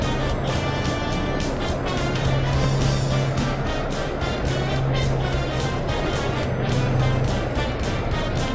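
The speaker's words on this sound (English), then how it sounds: "The number 14 Maserati of Jim Brubaker gets ready to head out for a few practice laps." The 1948 Indianapolis 500 number 14 Maserati race car and other cars head out for practice laps, giving a loud, steady engine roar with rhythmic pulsing on an old, noisy recording.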